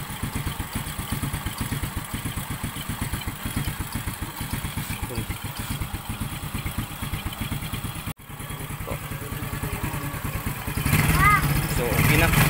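A Honda XRM 110 motorcycle engine idles close by during carburetor tuning, with a steady, rapid chugging pulse, briefly interrupted once, then revving slightly higher near the end.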